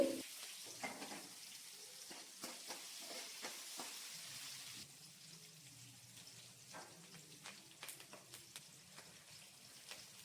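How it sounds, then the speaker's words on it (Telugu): Cumin seeds and finely chopped green chillies fry in hot oil, a steady soft sizzle with scattered crackles and pops, fairly quiet and close, continuing without speech. "ఆయిల్ కొంచెం వేడైన తర్వాత జీలకర్ర వేసుకోవాలి అందులోనే సన్నగా కట్ చేసుకున్న కొన్ని పచ్చిమిర్చి మంచిగా ఫ్రై చేసుకోవాలి"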